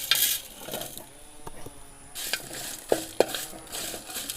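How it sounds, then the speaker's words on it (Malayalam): Whole spices scrape and rattle in a dry pan as they are stirred, with a few sharp clinks of a spoon against metal, close and fairly quiet. "അപ്പോൾ നമ്മുടെ സ്പൈസസ് എല്ലാം കൂടി നമ്മൾ ഇതുപോലെ നന്നായിട്ടൊന്ന് ചൂടാക്കി എടുക്കാം"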